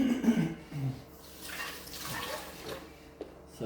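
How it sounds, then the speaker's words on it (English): Tap water splashes and trickles softly as hands are wetted while kneading bread dough at a kitchen sink, a faint, uneven running sound with small drips. "So I'll wet my hands for this as well."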